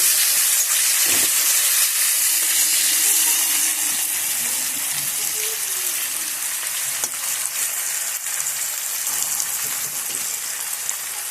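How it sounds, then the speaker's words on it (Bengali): Potatoes sizzle steadily in hot oil in a pan for an eggplant and hilsa curry, a continuous close hiss with faint crackle throughout, no voices. "আলুটা একটু ভাজা ভাজা করে নেব।"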